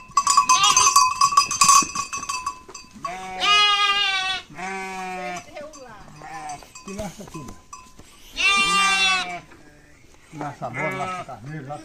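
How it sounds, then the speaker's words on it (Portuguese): Sheep bleat loudly and repeatedly on a farm as they are lassoed, several close, wavering cries with people talking in between and a brief metallic jangle at the start. "vendido aqui umas ovelhas e Zoinho vai laçar aqui para poder passar pr"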